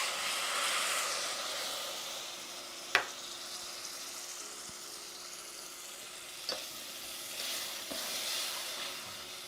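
Evaporated milk goes into a pan of sizzling pistachios and butter, giving a steady, fairly quiet frying hiss with a couple of sharp utensil clicks and taps.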